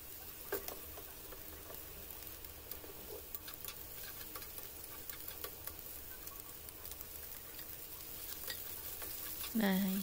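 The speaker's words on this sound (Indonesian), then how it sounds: "kita aduk-aduk seperti ini sampai benar-benar harum" Spices and dried shrimp being stir-fried in a pan for kangkung, a soft steady sizzle with light scraping stirs and ticking spatula taps, fairly quiet and close.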